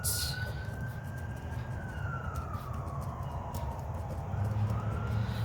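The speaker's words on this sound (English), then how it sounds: "Sorry about the sirens if you can hear those." A siren wails in the distance, its faint tone slowly rising and falling over a steady low background rumble.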